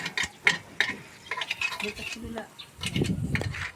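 Margarine is stirred in a frying pan with a utensil, giving soft scraping and clinking with faint sizzling while a person talks nearby.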